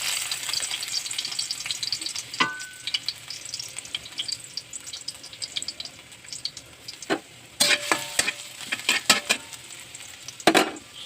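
Garlic fries in a pan with a steady close sizzle, broken by clusters of louder scraping and clattering from stirring toward the end.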